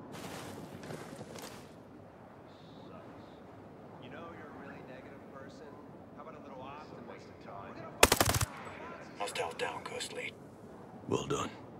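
Gunfire in the video game Ghost Recon Breakpoint during a mountain siege: a sharp, loud burst of shots cracks out midway, followed by several shorter bursts, after quiet stretches of low radio-style squad voices.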